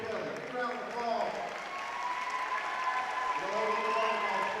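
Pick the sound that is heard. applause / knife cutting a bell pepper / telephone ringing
applause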